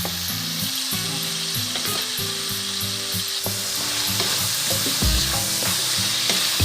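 Beef and mixed vegetables stir-frying in a pan produce a loud, continuous sizzle, with frequent clanks and scrapes from stirring building toward the end.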